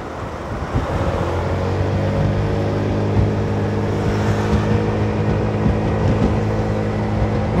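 A Honda Forza 300 scooter's engine and exhaust drone steadily at close range while riding, with a slight rattle from a loose exhaust pipe, under constant wind noise.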